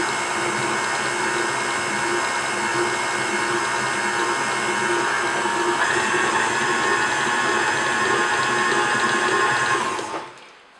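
An electric mixer runs on low speed through eggnog cupcake batter, a steady whirring hum with a rattling whine that holds for about ten seconds, then winds down and stops.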